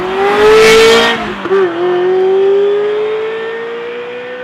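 A Ferrari F355 engine in Forza Horizon 5 revs hard, rising to a loud roar, briefly dropping, then holding a steady, slowly climbing high-pitched drone up close.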